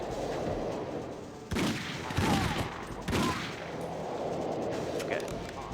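Gunfire in the N64 game 007 The World Is Not Enough, with a few loud shots cutting through steady game background noise while a person talks over it.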